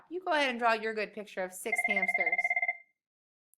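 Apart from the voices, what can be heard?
phone ringing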